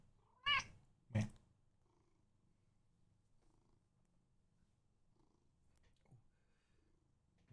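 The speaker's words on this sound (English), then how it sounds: "You are purring so loudly." A pet cat purrs softly and continuously while being stroked, a low close rumble broken early by two sharp, loud cries, then a few faint clicks over the quiet purr.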